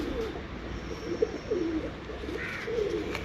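Large breeder pigeons cooing in a loft; a few soft, throaty coos come and go, fairly close, over a quiet background hiss.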